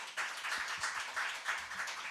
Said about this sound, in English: clap for the parents